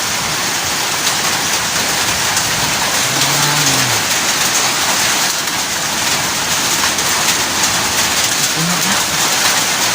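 Steady rain pours down, a dense even hiss of drops on surfaces that holds throughout, with no speech.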